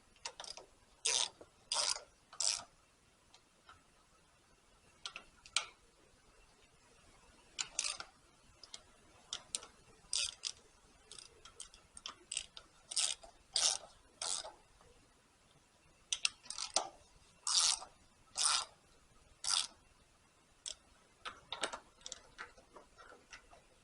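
A ratchet wrench runs manifold bolts down snug on a 1938 Allis Chalmers B tractor, giving short bursts of quick clicking in irregular groups separated by pauses, close and fairly quiet.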